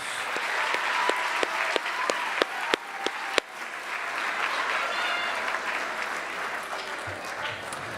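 A junior high school awards audience applauds the top seventh grade students, with sharp individual claps standing out early over a steady wash of clapping that continues at moderate loudness, with some voices underneath.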